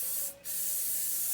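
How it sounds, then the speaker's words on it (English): A single short hiss of cooking spray is sprayed onto a baking pan, close and clear, lasting just a fraction of a second in an otherwise quiet kitchen. "I'm gonna spray the walls and all. Give it a good spray."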